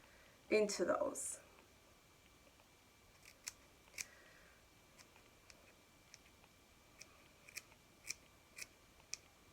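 Scissors snip through synthetic wig hair, first in a loud dense burst of cutting near the start, then in a series of sharp, separate clicks spaced out over the rest of the clip. Talk is heard briefly.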